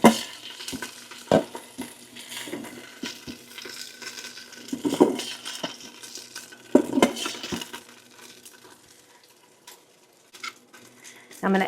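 Jerk pork browning in the metal insert of an Instant Pot, a soft steady sizzle under sharp scrapes and clanks of a utensil against the pan, louder clusters of stirring around the middle.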